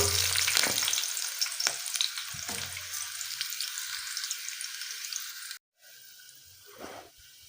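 Onion with four broken green chillies frying in hot oil for methi aloo, a loud broadband sizzle that holds steady, cuts out briefly near the end, then resumes more softly, with a few stirring scrapes.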